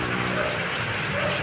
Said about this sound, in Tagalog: Dire-diretso ang ulan dito sa amin.